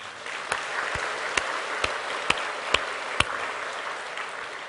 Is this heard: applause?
yes